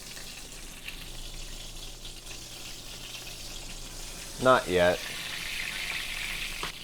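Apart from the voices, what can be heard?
buttermilk fried chicken frying in cast iron skillet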